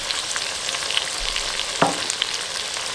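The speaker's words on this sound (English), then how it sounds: "Once you add the spice to the onions and chilies, you want to cook that for about 2 minutes" Spices such as cumin, tandoori masala, fenugreek and garam masala fry with onions and chilies for keema aloo mattar, giving a steady close sizzle with one brief louder stir or scrape partway through.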